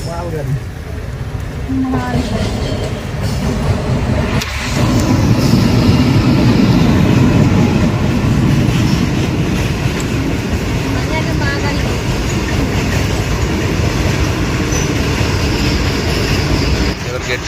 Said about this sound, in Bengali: ট্রেন চলে গেছে, এবার রেল গেটটা তুলবে।